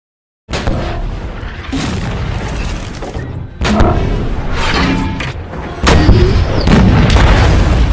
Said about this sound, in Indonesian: Nedenov berusaha menghindari tembakan tank Tiger